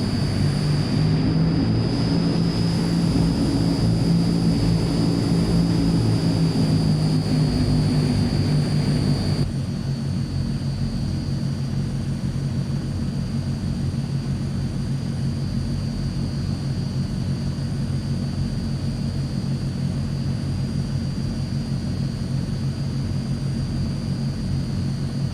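Transall C160 military turboprop engines on a runway, a loud, steady propeller drone with a sustained high whine that continues without a break. The roar eases a little partway through.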